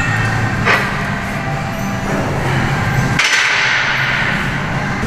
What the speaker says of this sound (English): dropping the weights when doing rack pulls. This is very loud, it's metal on metal